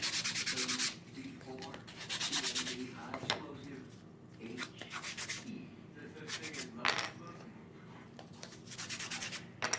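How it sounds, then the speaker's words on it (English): Rough edges of cut wood pieces for a sectional sofa build are sanded by hand, giving repeated scratchy rubbing strokes in a steady back-and-forth rhythm, close and clear. "then you want to sand off any rough edges that you have"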